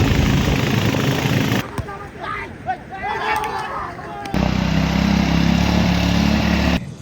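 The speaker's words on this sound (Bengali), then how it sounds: "ওই যে বাইক নামতেছে, খুবই ডেঞ্জারাস আসলে" Motorbike engine descending a steep, dangerous hill road near a river valley in Bangladesh, a loud steady drone that drops away briefly as voices chatter, then returns strongly.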